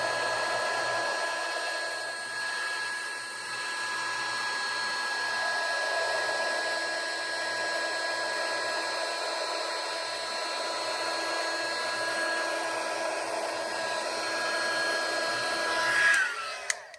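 A heat tool heat-sets embossing on a rubber band technique card, giving a loud, steady whirring blow with a high tonal whine that runs unbroken for about sixteen seconds before cutting off.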